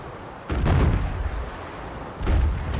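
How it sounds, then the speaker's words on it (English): Cannons and bottle rockets fire in a pirate naval battle game, two loud booming blasts with long rumbling tails about two seconds apart, heavy and close, no voices. "Time to unleash me most feared weapons. Me bottle rockets"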